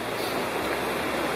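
Big Creek in the Great Smoky Mountains rushes along close by, a steady, loud broadband wash of flowing water with no other sounds over it.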